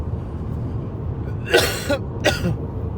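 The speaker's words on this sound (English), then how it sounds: "which I feel made me cough more" Two harsh coughs break out close up, a longer one followed by a shorter one, over a low background rumble.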